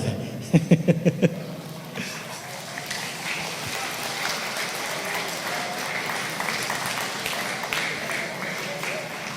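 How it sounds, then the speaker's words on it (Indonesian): A seminar audience at an Islamic boarding school event applauds after a speaker is introduced, starting with a few sharp claps and then turning into a steady, moderately loud wash of clapping with crowd murmur throughout. "Tepuk tangan dulu."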